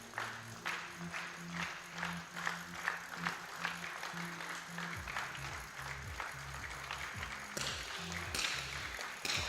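A crowd at a junior women's 50m three-positions rifle team match in Osijek, Croatia, claps and cheers in bursts, with rhythmic applause and a commentator's voice talking over it.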